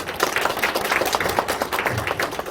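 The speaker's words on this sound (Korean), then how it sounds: "여러분들 뜨겁게 박수 주시고" Audience applause at a press briefing for a county governor's first anniversary in office, a steady wash of many hands clapping with no break for the whole stretch, fairly dense and moderately loud.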